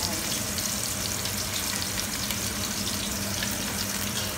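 Sautéed onions are stirred in a pan for ginisang saluyot, producing a dense, even, close-up sizzle with faint scraping and no voices.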